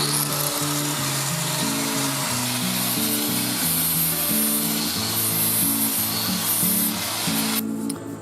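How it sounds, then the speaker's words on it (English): An angle grinder with a 120 grit flap disc grinds steel in the field, a loud steady hissing rasp with shifting motor pitch as pressure changes, cutting off at the end. "I've got a grinder here with a 120 grit flap disc"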